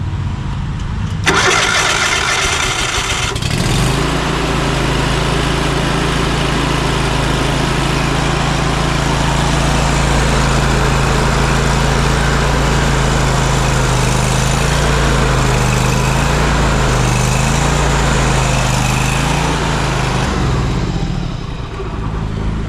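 A hydraulic concrete drill's engine cranks, catches and runs at a loud, steady low drone with a throbbing rhythm for about twenty seconds before cutting off near the end.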